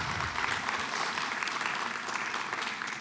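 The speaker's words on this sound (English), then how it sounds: "So can we do a little round of applause for everyone, please?" Steady applause from a workshop audience, a dense wash of clapping that holds evenly through the whole stretch without pause.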